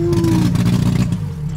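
Chevrolet Chevette engine with water reaching near the motor, revved briefly up close as a rough, steady mid-range drone with a little clatter, no talk over it.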